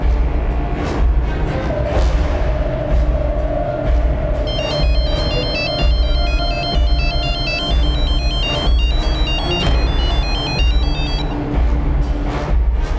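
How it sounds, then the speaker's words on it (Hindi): A phone rings on and on without being answered, its bright repeating electronic ringtone loud and close over a steady low hum, with no one speaking. "सर वो लड़का फोन नहीं उठा रहा है।"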